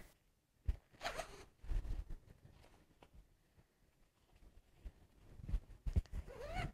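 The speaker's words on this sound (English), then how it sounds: "zip it up" Zipper closing a collapsible zippy storage bag during classroom cleanup: a couple of quick, rasping zip strokes up close, with soft rustling and handling between them, no talking.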